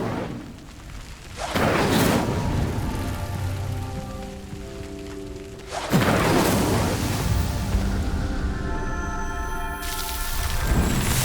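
The Incendio fire spell cast in Hogwarts Legacy to light pyres: two loud whooshing bursts of flame, each roaring into a sustained crackling blaze with ringing magical tones, close and dominant with no voices.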